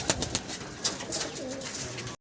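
Giribaz pigeons at a farm cooing and flapping as they are released to fly, soft fluttering bursts and low coos close by, fairly quiet with no talk.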